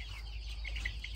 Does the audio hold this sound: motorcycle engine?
no